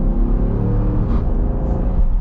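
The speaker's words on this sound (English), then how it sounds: "I like the little burble in the exhaust at the end there." 2023 Dodge Durango R/T with a naturally aspirated V8 accelerating hard, a loud deep rumbling engine note from inside, swelling and ending with a brief exhaust burble.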